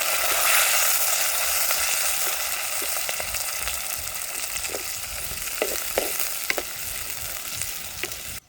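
Steady crackling sizzle of chilli, garlic and onions frying in hot oil, with occasional sharper pops and a stir near the end, close and continuous.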